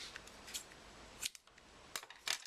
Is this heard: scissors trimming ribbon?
yes